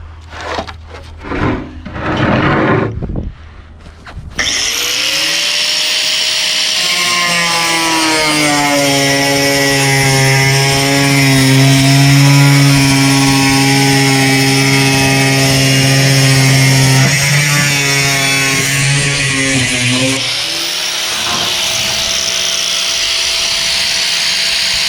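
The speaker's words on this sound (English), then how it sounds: "So let's go cut out a panel." Carbon fiber panel being cut with a power tool for a Cobra Daytona build, a steady loud whining drone held for about fifteen seconds after brief handling noises, then winding down and stopping.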